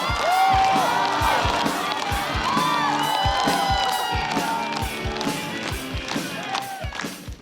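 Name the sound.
audience applause and cheering for a comedian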